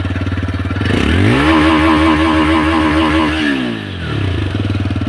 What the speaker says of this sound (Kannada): ಸೌಂಡ್ ಮಾತ್ರ ಸಾಲಿಡ್ ಆಗಿ ಕೊಟ್ಟಿದ್ದಾರೆ ಸೈಲೆನ್ಸರ್ ಒಳ್ಳೆ ಕೊಟ್ಟಿದ್ದಾರೆ ಸೌಂಡು